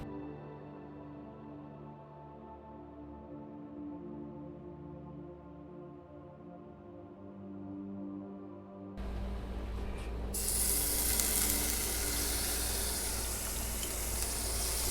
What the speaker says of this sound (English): quick boil pierogis, and we're just going to saute that right on the skillet